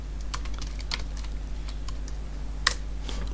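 Close, light clicking of computer keyboard keys as code is typed, irregular taps at a quick pace over a low steady hum, with no speech.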